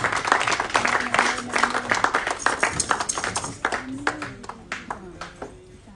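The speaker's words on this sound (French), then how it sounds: "Applaudisseer voor uw God waar u bent." A congregation at a Sunday church service claps in a steady rhythm, loud and close, mixed with singing voices that fade slightly toward the end.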